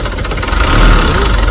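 A water-cooled engine runs steadily and loudly with a continuous mid-range rumble, its cooling water not circulating properly and its temperature rising.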